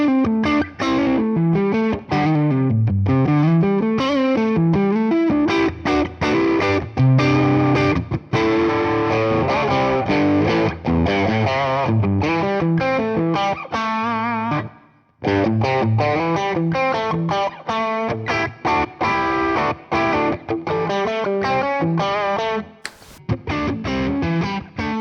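Electric guitar played through an overdrive pedal into a fairly scooped Fender Deluxe Reverb amp, a Tube Screamer-style drive, with distorted chords and melodic lines ringing continuously for about 25 seconds, loud and up close, with no talking.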